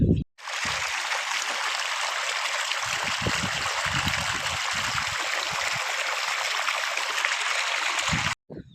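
Steady rushing water runs continuously, loud and close, like a stream or pipe outflow, with brief low thumps at the start and end.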